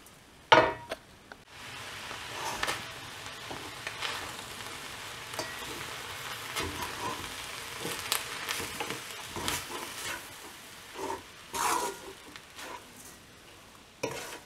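Drumstick leaves and ground puffed rice are stirred in a frying pan, giving soft scraping and rustling strokes over a faint steady sizzle, with a few louder clatters of the spatula against the pan.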